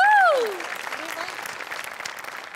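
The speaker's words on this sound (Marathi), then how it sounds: "सुनील डांगे यांची संकल्पना आहे, त्यांच्यासाठी एकदा टाळ्या वाजूया." Studio audience at a Marathi television comedy show breaking into sustained applause, steady dense clapping after a brief sung or voiced flourish at the start.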